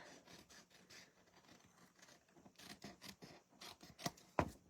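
Scissors snip a small ribbon on a handmade stamped butterfly card, a few quiet cuts coming in short bursts near the end, close and soft.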